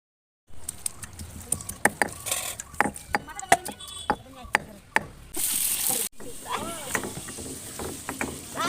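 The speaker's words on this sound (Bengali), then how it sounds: "আর এই যে আলুগুলো কুচিয়ে রেখেছিল আমার বড় ভাবি, এগুলো আমি ধুয়ে নিলাম" Water splashes and patters as chopped potatoes are rinsed by hand in a container for a home-cooked Bengali picnic lunch, with irregular sloshing bursts and a short rushing pour near the end.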